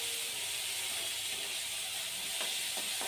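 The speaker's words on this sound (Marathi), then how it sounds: "हा कांदा चांगला परतून घ्यायचा" Finely chopped onion sautés in a pan with mustard seeds for lasooni methi, a steady hissing sizzle throughout with a couple of brief scraping sounds near the end.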